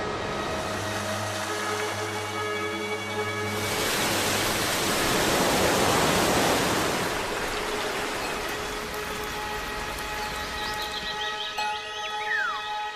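Rushing water of countless waterfalls fed by rain, a broad steady roar that swells and thickens midway, with tonal background music running over it and a few bright chirps near the end.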